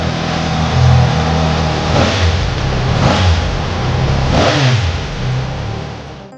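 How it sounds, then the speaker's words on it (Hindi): A superbike engine at a used superbike market in Delhi revs hard and close, with several rising and falling throttle blips over a steady, loud idle. "साउंड में सैम भाई लोगों को सुनाते हैं एक बारी, क्योंकि भाई इस बाइक का जो साउंड है ना इतना रिफाइंड का मजा आएगा"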